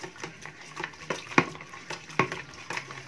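A homemade disinfectant mixture being stirred in a container: rhythmic scraping and swishing strokes with a few sharp clinks against the sides, moderately close, and no talking.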